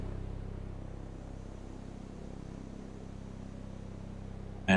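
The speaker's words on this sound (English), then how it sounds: "As you can hear, there is some white noise that I'm using this time." A VCV Rack modular synth patch puts out a steady, even hiss of white noise, low and continuous, with a faint low hum underneath and no voices.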